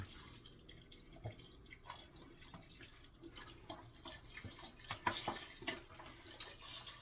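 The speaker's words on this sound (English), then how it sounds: "I'm now gonna add 4 cups of chicken broth to this mixture, as long as it pours out without any incident here" Chicken broth poured into a pot of soup mixture, a faint trickling and splashing of liquid with irregular drips and gurgles.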